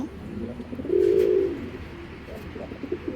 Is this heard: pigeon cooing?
yes